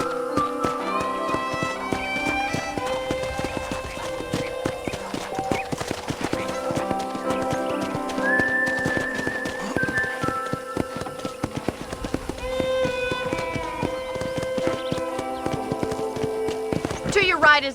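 Horse hooves clip-clop in a steady trotting rhythm during horseback riding in the video game Red Dead Redemption, with a few neighs and whinnies over continuous background game music and ambience.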